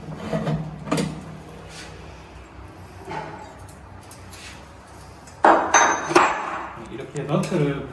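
Rubber mallet striking parts of a Samsung washing machine during disassembly, giving scattered dull thuds and knocks at an irregular pace, louder and more frequent toward the end, close by.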